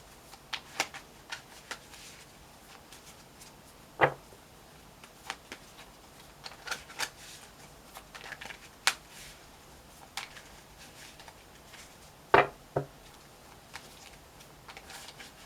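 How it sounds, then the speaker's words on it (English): Tarot cards are shuffled in soft riffles and taps scattered across the clip, close and fairly quiet, with no talking. "I always like to get a good shuffle on these."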